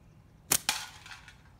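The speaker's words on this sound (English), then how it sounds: "I still should be able to get by and shoot this. Shoot the can first" A slingshot shot strikes a can with two sharp, close metallic cracks in quick succession, then a faint ringing fade in otherwise quiet surroundings.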